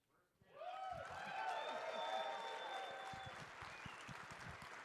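An audience at the SAINTCON 2022 conference breaks into applause, the clapping swelling quickly into a dense, sustained roar from a large crowd before easing slightly, with voices faintly mixed in.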